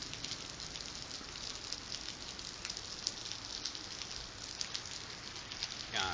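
Steady rain falls and patters on a surface, a dense, continuous hiss with scattered drop clicks throughout, fairly even and moderately close, with no voices.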